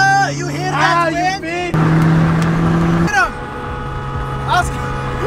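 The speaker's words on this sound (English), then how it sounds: "My god, it's a car meet!" Cars gathered at a late-night street car meet give a steady engine drone with passing revs, heard under excited talk from people inside a car.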